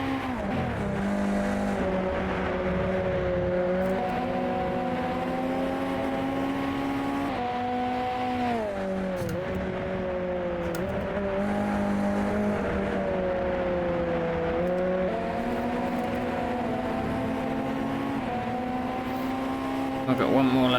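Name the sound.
USF2000 race car engine in a racing video game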